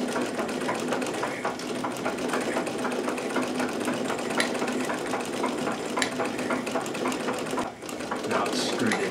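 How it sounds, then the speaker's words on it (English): A Necchi BU Nova sewing machine runs a zigzag stitch with needle position and zigzag width moving together, a loud, steady rapid mechanical whirring and clatter with a brief dip near the end, under someone talking. "what this is now doing is moving both the needle position lever and the zigzag in tandem"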